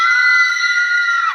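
A scream from an old haunted mansion at the edge of a village: one sustained, loud, shrill cry, held steady for over a second before dropping off abruptly, with nothing else heard.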